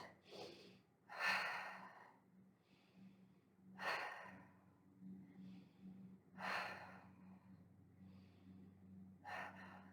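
Deep breaths taken during an exercise routine, close and soft, with several slow inhales and exhales spaced a few seconds apart over a quiet low hum.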